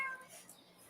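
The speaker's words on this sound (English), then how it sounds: "The cat wants some attention." A house cat gives a single short meow for attention, quiet and fairly close, alone with faint room noise behind it.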